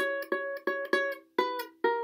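Ukulele plucking a riff: a string of clear, ringing single notes in a steady rhythm with short gaps between them, one of them sliding up to a higher pitch, played close and alone.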